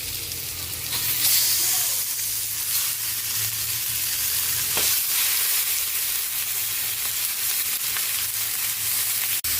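Chicken and onion fry in a hot pan with a steady, dense sizzle that holds close and loud throughout, with brief stir scrapes near the middle.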